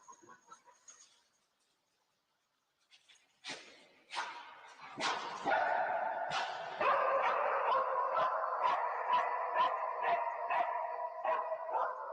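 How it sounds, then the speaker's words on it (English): A cadaver-search dog barks repeatedly, starting with a few sharp barks and settling into a steady, loud series of evenly spaced woofs with whimpering whines between them. "I think this is the other dog."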